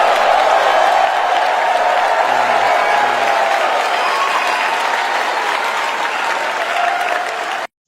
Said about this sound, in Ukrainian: І після цього зал влаштував дуже бурхливу овацію.